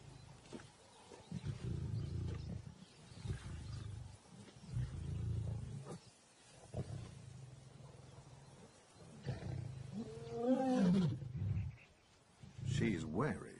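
A lioness and intruding male lions roar in the wild, deep rumbling calls rising and falling in bursts, with a short series of grunting roars near the end.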